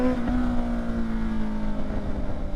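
Honda CBR motorcycle exhaust droning steadily on a night ride, a close, loud engine note with a sustained tone that shifts slightly in pitch, no talking.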